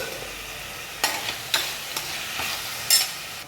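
Onions and tomato with turmeric sautéing in a pan for crab gravy, a soft steady sizzle broken by a few sharp scrapes and clinks of a spoon stirring against the pan.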